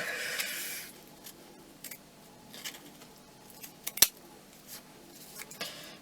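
Scissors snip through handmade bubble wrap material while cutting out craft leaves, a few soft crisp cuts scattered across the stretch, with one sharper, louder snip in the middle and quiet pauses between.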